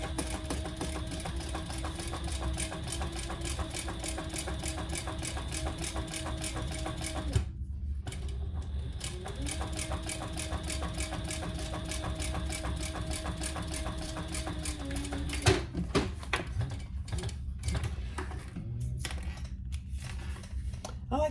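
Sewing machine top stitching through wax canvas on a small sling bag, a steady close mechanical hum in two long runs broken by a short pause, ending with stops and handling clicks.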